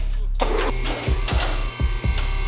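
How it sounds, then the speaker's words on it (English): A hydraulic press in a knife maker's forge shop crushes a frozen turkey: a loud, steady machine drone runs throughout while several sharp crunching impacts land in quick succession toward the end. "We need to smash this thing. Let's smash it in the press."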